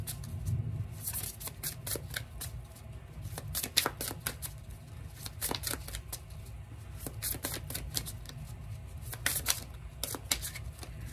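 Tarot cards shuffled by hand, a steady run of crisp riffling flicks and slaps repeating close to the listener over a low background hum, with no talking.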